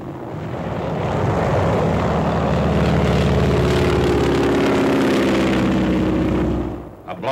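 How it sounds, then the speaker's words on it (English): Low-flying World War II propeller planes on a strafing run roar in a loud, steady engine drone that swells in and holds before cutting away abruptly near the end. "Low-flying planes strafe the enemy."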